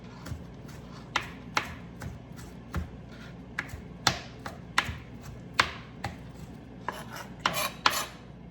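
Knife chopping tomatoes into a small dice for a vegetarian omelette, sharp crisp taps against a cutting board in an irregular rhythm, close and clear over a faint low background hum.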